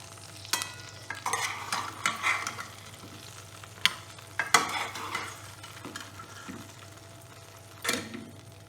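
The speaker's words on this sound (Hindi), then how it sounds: "अब हम तले हुए बैंगन को इस तरह से प्लेट में निकाल कर रख लेंगे" Fried eggplant pieces lifted from a pan and set onto a plate, with scraping and clinking of a utensil over faint sizzling oil, in a few short bursts near the start and middle and once more near the end.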